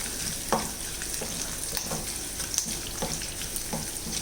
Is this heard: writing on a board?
no